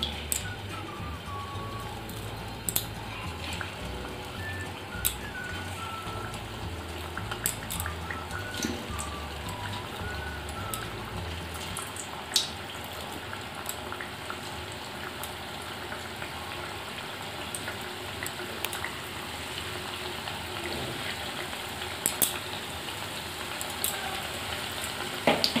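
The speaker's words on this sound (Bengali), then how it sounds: "তেলটা আমার গরম হয়ে গেছে এবার আমি আস্তে আস্তে করে এগুলো ছেড়ে দেব" Food pieces frying in hot oil give a steady crackling hiss with scattered sharp pops and a low rumble underneath. The sound runs continuously and close, with no voices.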